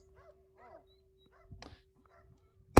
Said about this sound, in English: He barks at the gunfire.